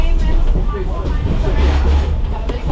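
Inside a century-old passenger carriage of the Serra Verde Express, a continuous low rumble of the rolling train on old railway track fills the cabin with faint rattles and clicks, while a person talks over it.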